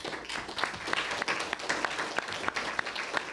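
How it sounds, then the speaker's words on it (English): An audience claps in steady applause, moderately loud with a few distinct sharp claps. "Let's give them a round of applause."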